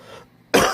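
A single harsh cough bursts out close and loud from a man with a cold, after a brief faint breathy lead-in and a short silence.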